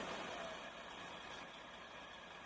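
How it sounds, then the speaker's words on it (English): A milk truck stuck in deep snow during a snowstorm is pulled free, its engine holding a steady, loud rumble with broad noise throughout and no talk. "my husband is gonna pull the truck"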